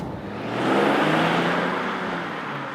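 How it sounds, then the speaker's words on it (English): A Mercedes E-Class All-Terrain E450 estate on air suspension drives through the city, its engine note and road noise swelling to a steady loud whir and easing slightly toward the end. "And now to some city driving, here with the E-Class in the all-terrain version."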